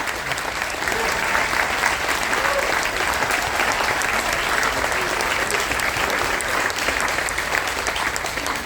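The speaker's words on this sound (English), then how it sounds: "Military spouses, if that's you, big round of applause for all of them." A crowd aboard a Carnival Dream cruise ship applauds military spouses at a military appreciation event, a loud, sustained roar of clapping with some cheering that stays steady for the whole stretch.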